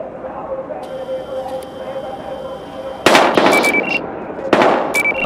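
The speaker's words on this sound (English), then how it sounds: "We've got gunshots." Video game gunfire cracks out in two loud bursts of rapid shots, with a high electronic tone and low hum running under the game scene before the firing starts.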